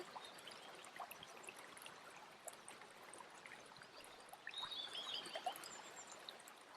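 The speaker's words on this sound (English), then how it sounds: "There's a rhythm to this water flow that's suitable for my state of being right now." Water flows and trickles continuously at low level, a soft, steady babbling with small splashes and a few faint high chirps above it.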